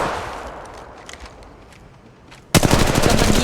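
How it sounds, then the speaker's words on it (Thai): Gunfire in an Apex Legends Mobile firefight: scattered distant shots and faint clatter give way to loud, rapid sustained automatic fire close by, bursting in abruptly and continuing to the end. "กำลังยิงต่อสู้"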